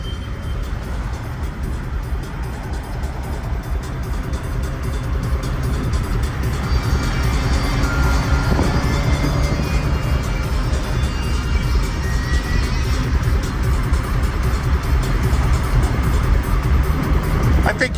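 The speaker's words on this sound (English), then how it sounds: "I guess these idiots are racing." Cars, including a Toyota Supra and a Mitsubishi, race past on a road, heard as a continuous loud rumble of engines and tire roar from inside a moving vehicle, with faint talk underneath.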